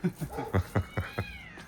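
A cat meows several times in quick succession, short close calls followed by a longer drawn-out meow at the end.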